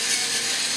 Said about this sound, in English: fresh ground black pepper.